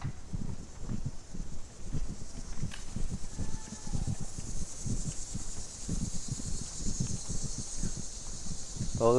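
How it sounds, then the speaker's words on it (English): Loud crickets chirp steadily at night on a residential street in Forest Hills Gardens, Queens, a dense insect trill under faint distant background noise throughout. "Those are some really loud crickets."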